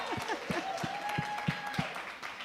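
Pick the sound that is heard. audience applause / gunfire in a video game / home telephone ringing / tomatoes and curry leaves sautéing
audience applause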